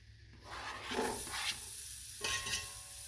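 Onions tipped into a pot of potato soup with flour, followed by a close hiss and soft stirring, rising quickly from quiet and continuing steadily.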